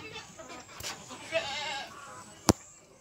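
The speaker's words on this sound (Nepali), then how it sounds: "बाख्रा कति धेरै हो" Goats, including adults and young kids, bleat in a farmyard in Dulegauda, Nepal: a soft wavering bleat rises mid-way amid quiet outdoor ambience, followed by one sharp, loud click.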